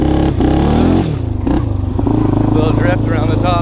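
A Yamaha Warrior 350 ATV engine, freshly fitted with a rebuilt carburetor, runs loud and close with a steady throbbing idle that rises into revs, with some clattering alongside.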